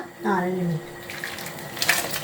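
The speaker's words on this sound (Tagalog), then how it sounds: "pone agua ferviente" Boiling water pours into a pot for Romanian meatball soup, a steady rushing splash that follows a brief voice and runs close and moderately loud to the end.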